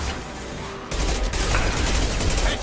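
Dense, loud gunfire in the Mass Effect Legendary Edition video game, with overlapping shots and bursts that keep roaring through the whole moment and grow heavier partway in.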